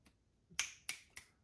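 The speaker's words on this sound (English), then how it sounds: "Getting a little hard to snap here" Three crisp finger snaps keep a steady beat at about a third of a second apart, close and clear in a quiet room, preceded by a faint softer snap.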